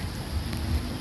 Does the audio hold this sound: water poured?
no